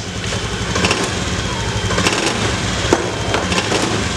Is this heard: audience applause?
no